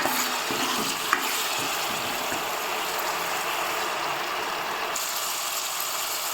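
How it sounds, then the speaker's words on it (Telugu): Ginger garlic paste fries in oil in a kadai on the stove for Andhra-style chicken curry, with a constant loud, close sizzle, a brief stir clink early on and no talking. "స్టవ్ వెలిగించి బాండి పెట్టి ఆయిల్ వేసిన తర్వాత అల్లం వెల్లుల్లి పేస్ట్ వేసుకొని ఒకసారి తిప్పుకోవాలి"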